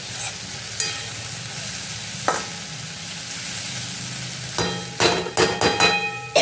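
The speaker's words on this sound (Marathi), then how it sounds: "याला शिजवायची काही गरज नाही आता बस परतली आपण आणि एकदा हलवून देणार आहे" Kurdai and onions being stir-fried in a pan give a steady low sizzle, with scraping stir strokes near the start and a burst of sharp clatters and scrapes toward the end.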